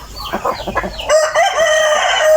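Seven-month-old young hens and a rooster being sold at a Thai poultry market, with a few close clucks followed by one loud, drawn-out crow.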